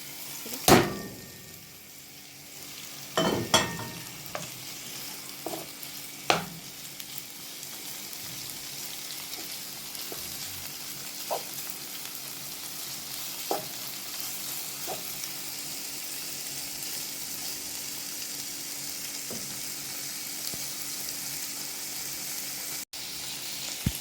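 Chicken and sautéed onion frying in a pan for a baked pasta casserole, a steady sizzle with occasional sharp clacks of stirring near the start, no talking.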